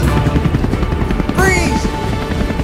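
A helicopter whirs overhead with a choppy rotor pulse, joined partway through by a rising whistle-like sweep, while voices shout over it in an outdoor woodland setting.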